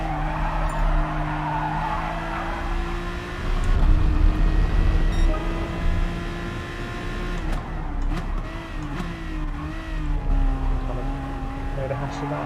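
Engine drone and a brief tyre skid from racing cars in GT Sport at Tsukuba, with steady revving and a scrape of contact between cars, heard under a commentator's talk.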